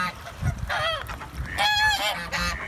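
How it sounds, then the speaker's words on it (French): Several geese honk by a lake, loud nasal calls sounding close in a few bursts over a quiet background, with no talking. "il y a eu trop de cygnes et, ou des canards peut-être"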